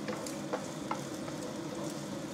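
Ground meat sautéing in a pan for chilli con carne, a steady close sizzle with occasional soft scrapes and stirring clicks throughout.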